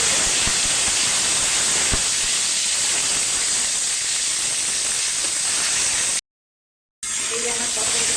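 Pointed gourd (potol) frying slowly in a pan gives off a loud, steady hiss of sizzling oil that runs unbroken, cuts out briefly near the end, then resumes.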